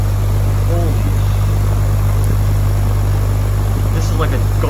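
A 200-watt DC motor spins at high speed, a loud, steady whine and whir with a buzzing low hum that holds constant throughout, with a brief voice over it.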